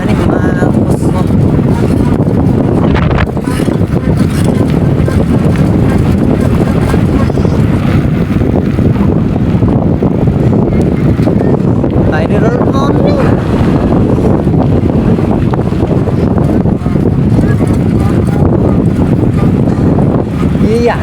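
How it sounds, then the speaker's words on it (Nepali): Strong wind gusts buffet the microphone in a loud, continuous low rumble throughout a stormy day with rain, with faint voices underneath. "हावा यति पावर लागिरह नि"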